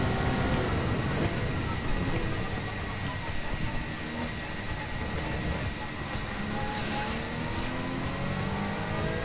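Race car engines in Gran Turismo 7 with a Mazda 3 Group 4 car, a dense and steady mechanical drone sustained throughout with no pauses, close and loud.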